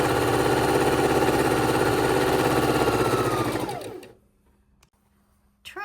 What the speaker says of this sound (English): Just keep chain stitching, adding one strip after the next.